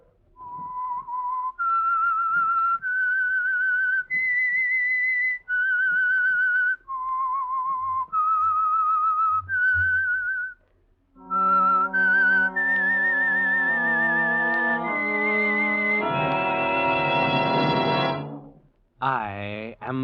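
A clear melodic whistle plays a short tune of held notes, the theme of the 1947 radio drama The Whistler, followed by a brighter, richer tonal melody with a rising sweep at the end.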